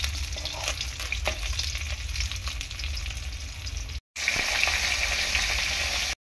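Fish pieces fry in hot oil in a home kitchen, giving a steady, close crackling sizzle with occasional stirring clicks, briefly cut off before resuming just as loud, and no talk.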